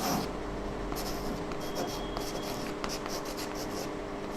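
Chalk or marker scratching steadily across a board during a Hindi lesson, a close, continuous rubbing stroke with brief pauses, heard alone with no talking.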